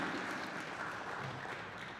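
Applause for senior athletes at a Flint Hill fall sports senior day celebration, a steady wash of crowd clapping held at an even level throughout.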